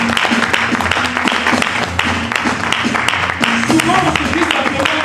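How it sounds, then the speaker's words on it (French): A church congregation claps and cheers for Jesus, a dense, loud wash of applause and crowd voices that carries on steadily, with a preacher's voice mixed in. "Je veux que tu acclames Jésus dans ta vie."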